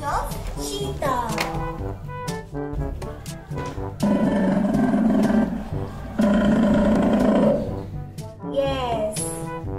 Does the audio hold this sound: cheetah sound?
yes